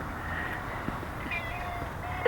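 A fat house cat sitting in a garden pot gives a faint meow late in the moment, set against low background hum and soft outdoor noise with no talking.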